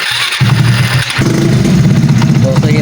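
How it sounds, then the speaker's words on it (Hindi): A 70cc motorcycle cranks on its electric self-starter and catches, settling into a steady, close, loud idle with a low pulsing beat after a brief stutter. "अब सेल्फ को दबाएंगे, इंशाल्लाह बाइक हमारी स्टार्ट हो जाएगी"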